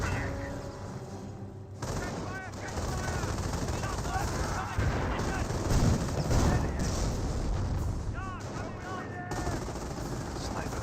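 Bursts of machine gun fire rake an infantry section in the World War II strategy game Company of Heroes, rattling in short volleys amid battlefield noise and distant explosions beneath a commentator's voice.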